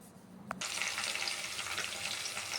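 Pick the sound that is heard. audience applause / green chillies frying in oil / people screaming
green chillies frying in oil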